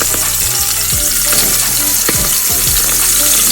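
Chicken liver and gizzards fry in hot oil in a pan, a loud, close, continuous sizzle with crackling pops and a few scraping thumps throughout.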